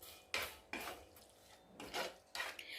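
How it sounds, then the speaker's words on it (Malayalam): Village-style fish curry masala is stirred in a pot with a spoon, giving four or five quiet scraping strokes in an uneven rhythm, close up and with no talking. "ഈ ഇളക്കൽ വളരെ പ്രധാനമാണ്."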